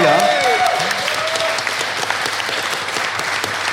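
An audience applauding the technical crew at a live podcast recording, dense sustained clapping from a crowd, with a brief tonal whistle or cheer at the very start, steady and fairly loud throughout.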